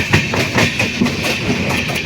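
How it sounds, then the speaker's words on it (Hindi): Mumbai Express 22653 superfast train arriving at Kozhikode railway station in Kerala, a loud, close rumble of rolling wheels with steady rhythmic clickety-clack from the passing carriages. "निर्धारित समय से 10 मिनट पहले ट्रेन कोझीकड़े रेलवे स्टेशन पहुँच रही है"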